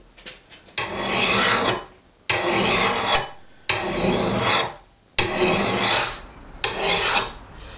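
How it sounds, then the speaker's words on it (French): A hatchet blade sharpened with a hand file outdoors, five long rasping strokes in a steady rhythm with brief pauses between them, close and loud, with no talk. "si jamais vous n'avez pas non plus de meuleuse, on peut se débrouiller avec une lime"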